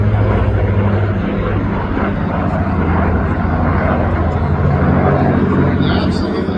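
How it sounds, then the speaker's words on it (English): Avro Lancaster and B-25 bomber propeller engines drone loudly and continuously overhead at an air show, a thick rumbling roar with commentary voices over the top. "You absolutely gotta love the sound of both the B-25 as well as the Lancaster."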